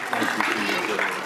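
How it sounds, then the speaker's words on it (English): A crowd in a Senate confirmation hearing room cheers and claps, a dense, steady wash of applause with voices mixed into the noise. "You heard some cheering in the room."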